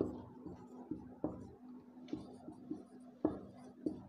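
Chalk or marker writing on a board during a lesson: a series of close, light taps and short scratchy strokes in an irregular rhythm, with a faint steady hum underneath and no talking.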